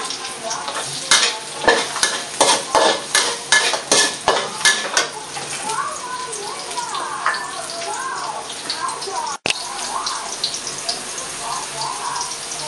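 Celery and carrots being stir-fried for shrimp fried rice: a close, loud sizzle with a quick series of rhythmic utensil scrapes and clanks against the pan, then steadier frying. Someone talks briefly.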